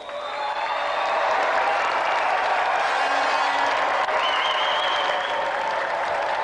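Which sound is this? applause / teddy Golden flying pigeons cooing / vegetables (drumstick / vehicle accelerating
applause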